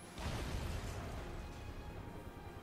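A grenade explodes in the video game Final Fantasy VII Remake: a sudden burst that trails into a long, rumbling decay, moderately loud with no voices over it.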